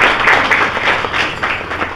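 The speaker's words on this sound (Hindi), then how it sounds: "ताली बजाइए।" Short burst of clapping from pupils in a government school classroom in Jharkhand, with quick, uneven hand claps that rise and fade over about two seconds.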